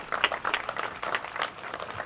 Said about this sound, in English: I'd really like to hear another applause for the folks that did this today